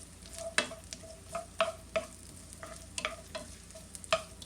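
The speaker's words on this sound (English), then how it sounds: "A nice sizzle." Onions give a soft, steady sizzle in a pan, punctuated by frequent scraping and stirring clatters of a utensil.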